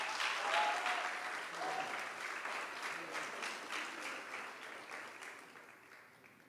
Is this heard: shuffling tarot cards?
no